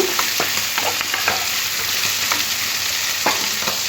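Onion frying and being stirred together with vegetables in a pan for a Bengali tangra fish curry, with a steady broadband sizzle broken by frequent sharp scrapes and clicks of the spatula against the pan.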